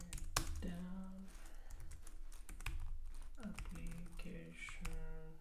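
Clicky computer keyboard typing in quick irregular bursts, close up, with a person talking over it at times.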